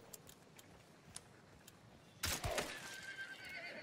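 A horse in a video game lets out a sudden loud whinny that rises and trails off over about a second and a half, following a few faint ticking clicks, with no talk over it.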